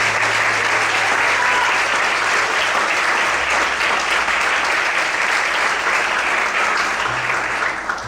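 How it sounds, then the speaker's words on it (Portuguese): Church congregation breaks into sustained, loud applause during an evening worship service, a dense steady wash of clapping that carries on without a break and only begins to ease near the end. "Será que você pode aplaudir e glorificar o Senhor nessa noite?"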